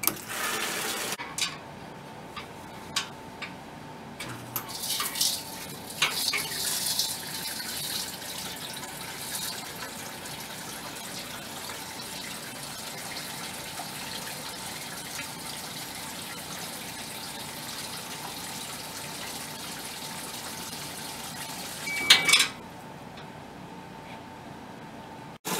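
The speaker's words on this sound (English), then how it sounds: "I'm gonna put my end of my hose into my bucket. And now we hit the dispense button." Water from a Doyon DAF001 water meter runs through a hose into a bucket, a steady, fairly quiet flow lasting about twenty seconds with a few brief knocks early on, then stopping abruptly.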